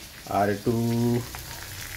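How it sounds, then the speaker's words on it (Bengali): Sliced potatoes fry in a pan of oil for a sweet-shop style breakfast dish, giving a steady soft sizzle that a person briefly talks over near the start. "আলু ভাজা বসালাম"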